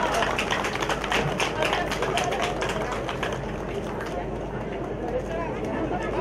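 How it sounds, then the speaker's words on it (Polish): Outdoor crowd at a Polish harvest festival clapping in sustained applause with a murmur of voices, dense and close, gradually easing off toward the end. "Kochani, poproszę o klaski dla nich!"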